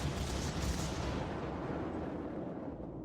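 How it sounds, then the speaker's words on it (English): Heavy cruiser gun salvos roar in a World of Warships naval battle, a dense continuous rumble of booming fire filling the clip at steady high loudness with no voices. "So, another salvo goes in."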